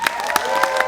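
A theatre audience at a stand-up comedy show claps and cheers in a short burst, a dense crowd roar with a few sharp claps standing out.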